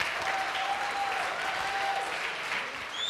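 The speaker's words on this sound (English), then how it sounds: "So please give a big hand of applause to Vikas Khanna again" A dense round of audience applause for a celebrity Indian American chef at a Q and A event, loud and steady, with a faint whistle rising through it.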